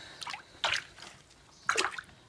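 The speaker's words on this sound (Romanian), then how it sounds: "Acum o să-i pun apă, o să o clătesc cu apă simplă, călduță" Plain warm water is poured over a small dog during a bath, making three separate splashing, trickling bursts at close range with quiet gaps between them and no voices.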